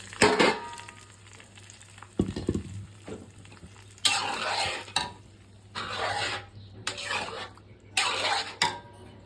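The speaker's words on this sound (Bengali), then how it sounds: "এখন আমি বাগার দিয়ে দিব। এখানে হচ্ছে পেঁয়াজ আর মিষ্টি সস।" Onion and sweet sauce sizzle as a tempering for thin khichuri, with bursts of frying hiss and sharp clatters of a spoon against the pot coming in uneven waves.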